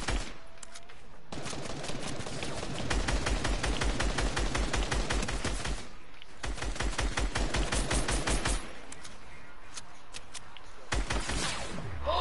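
Sustained rapid automatic gunfire in the video game Fortnite, with dense repeated shots for long stretches, brief pauses, and faint voices in the background.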